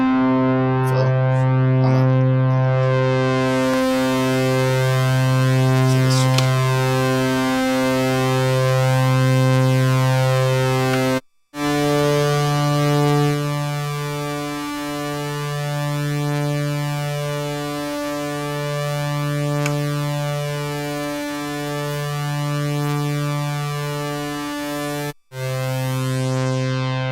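Behringer Model D analog synth plays a repeating sustained note pattern, its filter swept by the LFO so each tone wobbles in brightness, loud and alone with two brief silent gaps.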